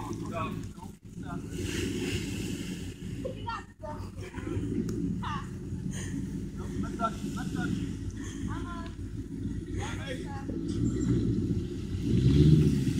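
A small Dodge four-wheel-drive vehicle's engine drones and strains with steadily rising revs, mixed with gusty wind noise and voices talking over it.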